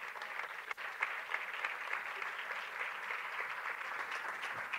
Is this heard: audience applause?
yes